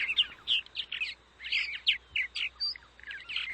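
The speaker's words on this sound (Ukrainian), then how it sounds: "Ці пташки будують гнізда під дахами будинків, на балконах та горищах або печерах." Small birds that nest under house roofs, on balconies and in attics chirp over and over in quick high bursts, close and bright, with no voices.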